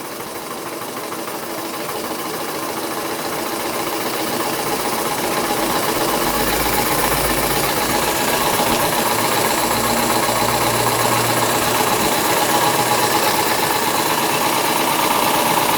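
A scratch-built overtype model steam engine runs with a fast, even mechanical chatter that builds to a steady, loud rhythmic churn and holds there, alone with no voices.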